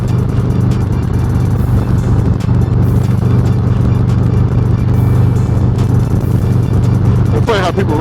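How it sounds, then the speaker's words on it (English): A car overtakes a Harley-Davidson Road Glide motorcycle on the road, heard over steady engine and wind roar from the bike, with a brief rising whoosh near the end. "We're gonna let this car pass."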